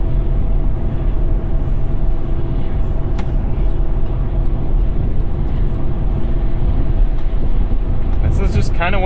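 Chevrolet Colorado ZR2 truck towing a load at 70 mph in sixth gear around 2700 RPM, with a loud, steady in-cab drone of engine and road noise that runs throughout.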